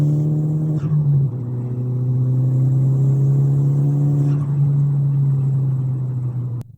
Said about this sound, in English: If I do a straight drag like that, go through the gears, there can be a bit of a delay between the gear changes